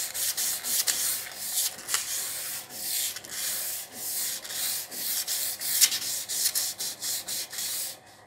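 Copper tube rubbed lengthwise to polish it, giving a steady, close scratchy rubbing in repeated back-and-forth strokes that swell and dip with each pass, with no talking.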